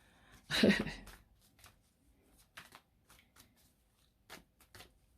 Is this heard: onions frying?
no